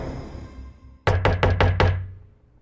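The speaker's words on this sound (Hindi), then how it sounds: "हमने काफी देर तक दरवाजा खटखटाया" Five firm knocks on a flat's front door at night, evenly spaced and close, ringing out after a dull low rumble of background ambience, with no voices.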